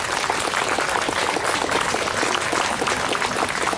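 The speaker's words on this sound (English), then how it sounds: "Could you please give them a big round of applause?" Audience applause at a Canada Day 150th celebration in Newcastle, a steady, dense wash of many hands clapping at close range, holding evenly for the whole stretch with no talk over it.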